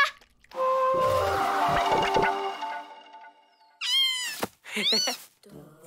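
A cartoon cat meows twice in quick succession, loud and close, with rising and falling cries after a stretch of voices and background music.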